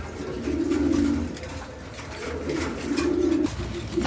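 Pigeons kept for sale coo close by, their low, throaty purring calls rising and fading in two longer bouts over a faint background hum, with no speech heard.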